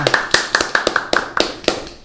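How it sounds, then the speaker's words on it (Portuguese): A few people clapping to welcome a guest onto a beauty-industry talk show, with sharp, close, fairly loud claps in a quick, slightly uneven rhythm over a short burst, with no talk over it. "Aplausos, galera!"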